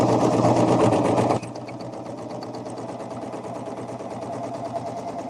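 A Janome CoverPro coverstitch machine sews across a fabric seam. It opens with a loud, fast, even mechanical whir, then drops abruptly to a quieter steady running hum with fine rapid ticking.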